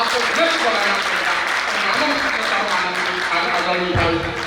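An audience at an all-India kavi sammelan poetry gathering claps in a sustained burst of applause, fairly loud and continuous. A voice speaks over the clapping and stays prominent throughout.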